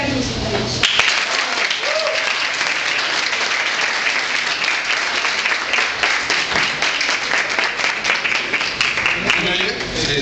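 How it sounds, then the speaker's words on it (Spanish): An audience at a Rotaract talk in Mexico City claps warmly to welcome a speaker, loud sustained applause that stays even throughout, with faint voices beneath the clapping. "Por favor, recibamos con un aplauso a Luis Gagnusi."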